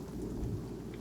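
Thunderstorm rain pouring from a rain cloud in the video game World of One, a steady rumbling wash of rain with a low thunder roll, heard alone.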